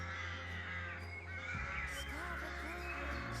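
Crows cawing in a quiet wood, several harsh calls repeating at a moderate distance over a steady ambient hum, with no talking.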